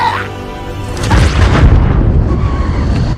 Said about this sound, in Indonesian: Donkey Kong yang menembakkan rudal ke kendaraannya hingga meledak